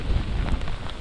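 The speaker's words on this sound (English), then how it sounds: "You can feel the rain just smacking me in the face here." Hurricane Milton's rain and wind gusts in Hillsborough County, Tampa Bay, a loud, steady roar of driving rain and buffeting wind against the microphone.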